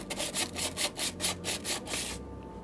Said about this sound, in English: you can hit it gently with a piece of sandpaper or a scrubbing pad, and that will remove any corrosion